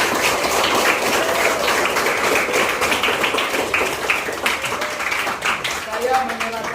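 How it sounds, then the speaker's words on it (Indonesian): Applause at a school principal handover ceremony at SMP Seminari Santo Yohanes 23 Langgur in Maluku Tenggara, a dense, sustained crowd clapping that fills the whole stretch and thins slightly near the end. "mari kita tepuk tangan"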